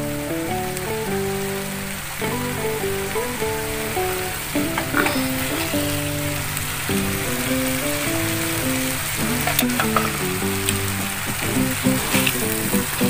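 Tuna pieces frying in sambal with petai beans, a steady crackling sizzle under background music.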